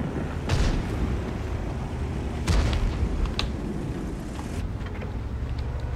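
Artillery fire in a video game, a continuous low rumbling roar with a few heavier booming blasts rising out of it, dense and steady throughout.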